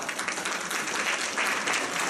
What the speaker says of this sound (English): I want to applaud you all